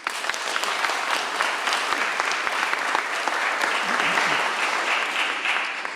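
A church congregation gives steady, sustained applause for the choir, many hands clapping evenly at moderate volume for several seconds.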